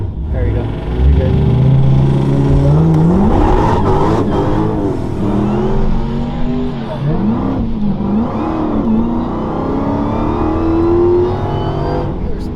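A boosted truck's engine roars and its tires spin under power outdoors, with rising and falling revs and whining tones over a loud, rough rumble, while people talk nearby.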